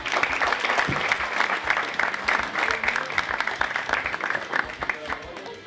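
A crowd applauds at a Macedonian stand-up comedy show, with loud, continuous clapping throughout and a faint voice mixed in underneath.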